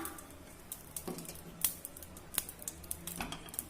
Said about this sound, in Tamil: இப்போ எண்ணெய் ஊற்றிக்கலாம்